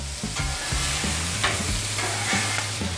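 Stir-fry vegetables for spicy shrimp pushed around on a 36-inch Blackstone griddle, a continuous hiss of frying under several metallic scraping strokes, close and fairly loud with no voices.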